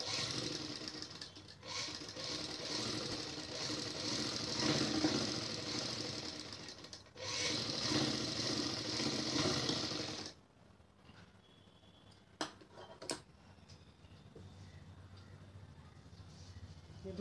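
Sewing machine running a second, doubled line of stitching along a salwar seam, two long steady bursts of continuous motor whirr broken by a short pause, then quiet with a few sharp clicks.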